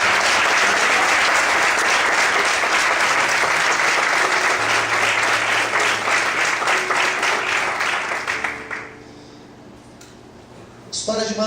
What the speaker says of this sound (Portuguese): Você pode desocupar sua mão e aplaudir o Senhor nesse momento?